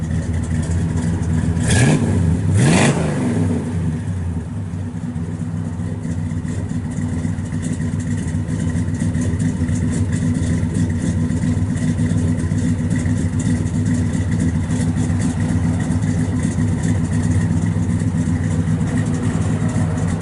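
A big 396 V8 in a 1966 Chevrolet Chevelle SS convertible with a mild cam and dual exhausts rumbles at a steady idle, with a couple of sharp throttle blips early on and a deep, throaty exhaust note throughout.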